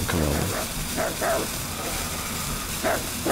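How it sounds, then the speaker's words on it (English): A dog barking in The Long Dark, a few distant yelping barks spaced out over a steady wind-like background. "Sounds like a dog barking."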